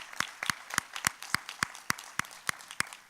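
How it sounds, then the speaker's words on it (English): Quiet clapping at a conference session on equality and justice for youth and families: about a dozen sharp, evenly spaced claps in a steady rhythm, sounding like a few hands rather than a full crowd. "We can clap and be excited"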